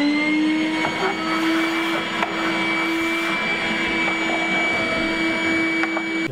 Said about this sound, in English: looks like it's going to be time for the vacuum cleaner